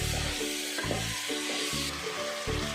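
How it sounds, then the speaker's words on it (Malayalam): Beans frying in a pan for Kerala-style vegetable kurma are stirred, giving a steady close sizzle broken by repeated scraping strokes of the spoon across the pan, with no talk. "ബീൻസ് ഇത്രയും നമുക്ക് നല്ലതായിട്ടൊന്ന് ഇളക്കിയെടുക്കാം."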